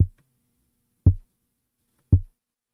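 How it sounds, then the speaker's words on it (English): Processed toothpick sample shaped with EQ, wave shaper and transient shaper: three short, dull, thumping hits spaced about a second apart, each decaying fast into silence. "You can hear that staticky sound"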